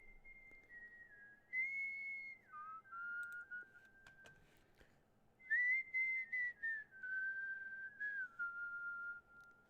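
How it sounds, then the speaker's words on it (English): A person whistles a melody over quiet background music, clear sliding tones in two phrases separated by a short pause, close to the microphone. "I can whistle."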